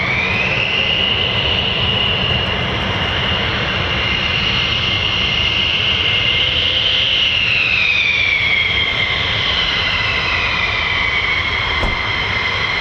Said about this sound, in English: It's pneumatic or pneumatic, making a FWEEP sound as the nozzles converge and diverge